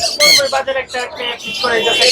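Loud, harsh parrot squawks ring out close by at a busy bird market in Mirpur, several sharp calls in quick, uneven succession.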